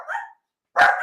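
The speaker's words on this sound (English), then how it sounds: "while the dogs are barking" Several dogs bark at home, with two close, loud bursts of barking separated by a short silence.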